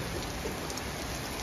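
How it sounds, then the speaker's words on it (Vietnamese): Steady rain falls after a hailstorm in Melbourne, a dense continuous hiss of drops pattering on surfaces, even and moderately loud with no talking. "Bây giờ nó đổ mưa rồi, hết đá rồi đó"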